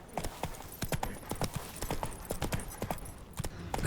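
Hooves of Geralt's horse Roach clatter in quick, steady clip-clop beats at a gallop in The Witcher 3, close and continuous across the whole stretch with no voices.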